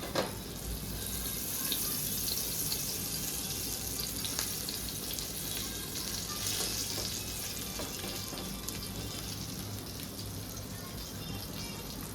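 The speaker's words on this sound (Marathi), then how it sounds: "तर इकडे आपण 2 पापलेट ठेवलेत फ्राय करत." Two pomfret fish fry in a pan with a continuous, even hiss and scattered light crackles, close and moderately quiet for the whole stretch.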